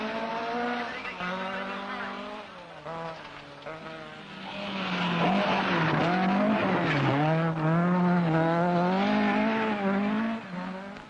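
A Fiat 131 Mirafiori rally car on the 1976 Lombard RAC Rally, its engine note loud and close, holding a steady pitch and then revving and falling as the gears change, with voices faintly beneath.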